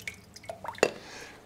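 Water drips from the bottom of a houseplant pot holding a Peperomia, a few small, distinct drops and splashes close by in a quiet indoor room.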